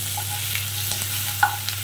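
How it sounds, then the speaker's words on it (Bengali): Chicken lightly frying in a pan for soup gives a continuous soft sizzle, with a few faint scrapes and clinks from stirring. "হালকা করে চিকেনটা একটু ভাজা করব, খুব বেশি ভাজবো না কিছু, হালকা করে একটু নেড়ে নেওয়া।"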